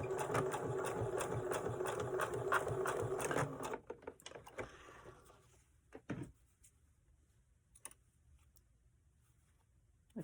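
Sewing machine running a quick test stitch on a scrap of fabric, a loud steady mechanical whir for about four seconds that stops, followed by a few faint clicks and handling sounds.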